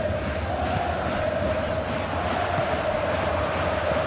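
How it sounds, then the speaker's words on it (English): A stadium crowd in the eFootball PES 21 video game roars in a steady, dense wall of cheering and chanting throughout, loud and continuous for a Bayern Munich versus Real Madrid Champions League match. "Now the crowd are demanding that they just finish this off"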